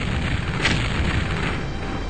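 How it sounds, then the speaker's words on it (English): An explosion in the Terror From The Deep video game, set off by a thrown projectile weapon, gives a short, heavy boom that then trails into a loud, sustained rumbling wash. "That's a good explosion."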